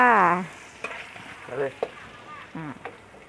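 Garlic and pork stir-fried in a pan for fried rice, a loud sizzle at the start easing into quieter frying with scattered clinks and scraping as the food is tossed, briefly under a voice.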